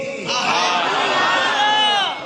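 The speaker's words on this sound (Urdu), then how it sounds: "مصطفیٰ مصطفیٰ کے نعرے لگا رہے ہو" A large religious gathering chanting "Mustafa" slogans in unison, a loud sustained rising crowd roar of many voices with a swelling, tonal, chant-like quality.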